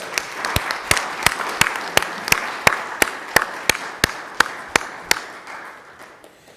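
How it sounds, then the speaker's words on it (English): A school board meeting audience claps for a high school chorale: slow, sharp, rhythmic claps ringing out roughly every third of a second over a softer wash of scattered applause, fading near the end. "Can we give them another round of applause?"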